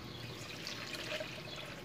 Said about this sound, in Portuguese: Eu vou colocar aqui na panela, vou colocar 500 ml de água